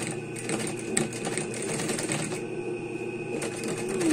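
A sewing machine backstitching fabric for a frufru craft project runs steadily and close, with a continuous rapid mechanical whir and needle clatter throughout.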